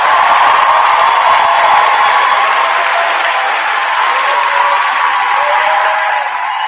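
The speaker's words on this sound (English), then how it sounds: "you hear the vociferous applause, the round of applause" A large crowd gives loud, sustained applause with some cheering, a dense continuous roar of clapping that holds steady for several seconds before easing slightly at the end.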